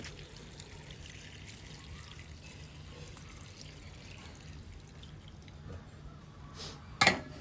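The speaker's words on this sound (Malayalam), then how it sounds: "വെള്ളം ഒഴിച്ചു കൊടുക്കുക" Water poured into a cooking pot of tapioca for a Kozhikode-style tapioca curry, a soft, continuous trickling and splashing close by, ending in a brief louder splash near the end.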